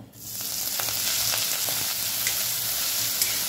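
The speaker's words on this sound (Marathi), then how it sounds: "तेल गरम झाले, छोटा पाव चमचा हिंग टाकूया, पालक टाकूया" Spinach sautéing with asafoetida in hot oil in a kadhai, a loud, steady, close sizzle and crackle that runs unbroken from start to finish, with faint stirring taps and no talking.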